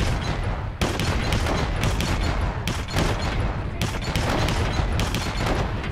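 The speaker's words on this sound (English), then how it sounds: "he's doing the dual pistols thing" Dual pistols firing in the game Xenophobia 2, a loud continuous barrage of rapid gunshots with brief pauses between bursts.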